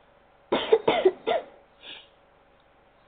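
A person coughs several times in a quick cluster of three harsh, close bursts, followed by a fainter throat sound, in an otherwise quiet indoor room.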